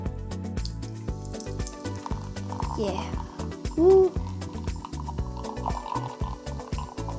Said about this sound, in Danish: Jeg tænker lige at hælde den op.